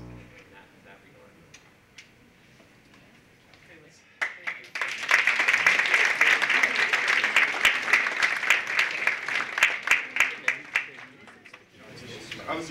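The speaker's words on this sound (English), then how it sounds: "Let's give Dean Furton another round of applause" An audience at a university student research day bursts into loud, sustained applause after a quiet, faintly ticking stretch, the clapping dense and close for several seconds before tapering off.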